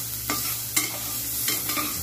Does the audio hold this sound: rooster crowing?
no